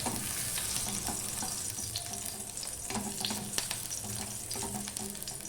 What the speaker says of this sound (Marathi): या लसणीच्या पाकळ्या आणि आलं घालायचे असं ह्याच्यातलं थोडं मॉइश्चर काढून घ्यायचं आपल्याला तळून घ्यायचे